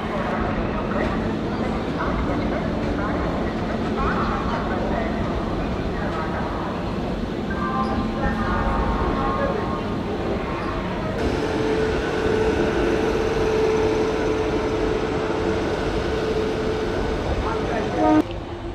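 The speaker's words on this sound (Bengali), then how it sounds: "আমাদের ট্রেন হাওড়া থেকে ছেড়ে দিল" The 12857 Tamralipta Express runs after leaving Howrah, with a continuous close rumble and rattle of the carriages throughout and passengers talking inside the coach.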